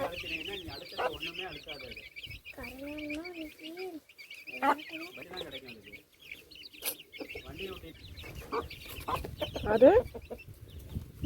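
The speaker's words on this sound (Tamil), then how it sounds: "சேவல் குஞ்சுகளை கோழியை சாப்பிட கூட விட மாட்டேங்குது" Chickens cluck and murmur nearby in scattered bursts, with voices talking quietly in the background.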